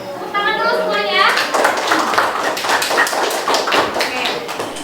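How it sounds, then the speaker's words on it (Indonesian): A classroom group applauds the winning team, a dense patter of many hands clapping steadily for several seconds. A voice talks briefly at the start, and children's voices mix in with the clapping. "Tepuk tangan dulu semuanya."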